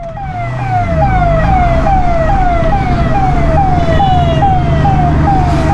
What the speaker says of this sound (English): Let's give the ambulance way so that someone is needing help.